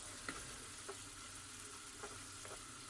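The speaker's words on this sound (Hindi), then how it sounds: "अब इसमें मैं डाल दूंगी टमाटर और अपने जो मसाले हैं।" Tomatoes and masala sizzle in a frying pan with sautéed capsicum and onion for chicken jalfrezi: a steady, faint, continuous hiss with a few soft stirring clicks, and no voices.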